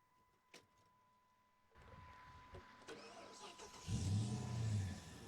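A Dodge concept car on a Magnum chassis with a 5.7 Hemi V8 cranks, then fires up near the end, after faint clicks and rustling, its loud low rumble settling into a deep idle.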